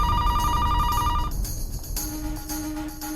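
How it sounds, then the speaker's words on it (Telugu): A landline telephone rings loudly and alone in a domestic scene, its electronic ring tone repeating steadily before shifting to a different tone partway through. "నీకు ఫోన్ చేశాను, ఆన్సర్ చేయకపోయేసరికి ల్యాండ్లైన్కి చేశాను"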